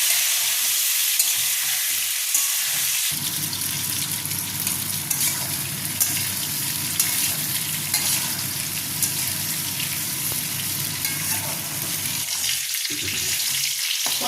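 Pointed gourd (potol) fries in hot oil with turmeric and salt, giving a continuous bright sizzle that swells after a few seconds and holds steady, with no voices.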